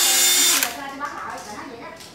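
A cordless drill switching between hammer and screwdriver modes whirs loudly for about half a second, then gives way to softer intermittent clicks and mechanical noise, with someone talking.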